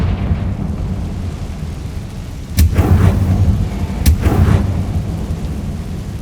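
Confringo fire spell blasts in Hogwarts Legacy, two sharp cracking bursts about a second and a half apart, each trailing into a rumbling roar over a steady low background hum.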